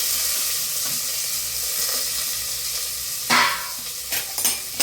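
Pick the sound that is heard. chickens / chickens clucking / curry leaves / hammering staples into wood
curry leaves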